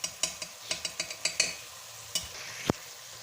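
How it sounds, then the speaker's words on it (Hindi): A spoon stirs spices frying in a pan for chicken jalfrezi, giving a series of distinct scraping clinks at a steady pace over a low sizzle, fairly quiet and close with no talking. "हम इसको 5 मिनट तक अच्छी तरह से भून लेंगे, मिक्स कर लेंगे"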